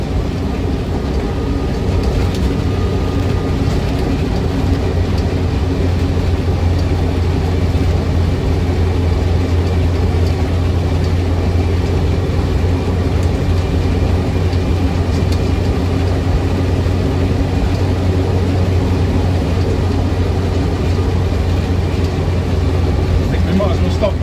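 A 1960s Land Rover Series 2a 88-inch petrol soft top with a Fairey overdrive drives along with a loud, steady, droning engine and transmission hum and strong low rumble throughout, with no break in the noise.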